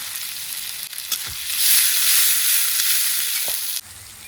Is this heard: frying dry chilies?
yes